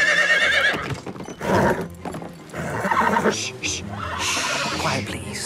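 A war horse in an animated film neighs and whinnies loudly several times, with hoof clip-clops and snorts mixed in, close and prominent against a busy background.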